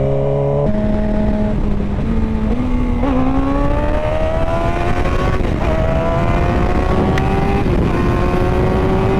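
A Suzuki GSX-R 600 motorcycle engine revving hard inside a tunnel, loud and close, its pitch climbing steadily through several gear changes with brief breaks between them.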